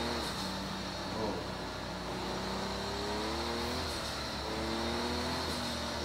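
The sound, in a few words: car engine accelerating in second gear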